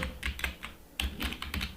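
Someone types on a computer keyboard to replace text in a Microsoft Word document, producing quick bursts of close, crisp key clicks in short clusters with a brief pause in between.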